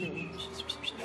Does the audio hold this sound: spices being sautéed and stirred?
no